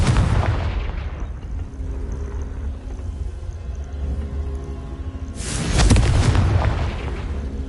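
A Confringo fire spell in Hogwarts Legacy bursts into a loud, booming explosion with a rumbling tail, followed a few seconds later by a second heavy blast that swells and fades.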